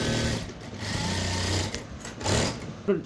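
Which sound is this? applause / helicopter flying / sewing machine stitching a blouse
sewing machine stitching a blouse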